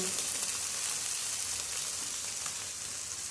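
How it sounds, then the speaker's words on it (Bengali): Small Bengal mourala fish frying in hot oil until crispy, a steady close hiss and sizzle that runs unbroken through the clip with no talking. "এটা একটু কড়া করে ভাজবো"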